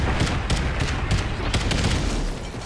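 Heavy gunfire in the Call of Duty Ghosts shooter game, a loud, dense burst of rapid shots rattling continuously and close, fading slightly at the end, with no talk over it.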